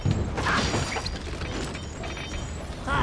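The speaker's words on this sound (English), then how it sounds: "I just can't let these mallets turn me into a turtle pancake." Mallet trap mechanisms in a Sly Cooper video game clank and thud in quick bursts, with mechanical rattles and a sharp crash near the end, loud and close.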